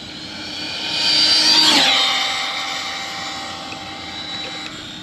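An RC car fitted with a Castle 2535 520kv motor makes an 8S speed pass, a high-pitched whine that rises as it approaches, peaks loudly in the first two seconds, then fades with a Doppler drop as it speeds away.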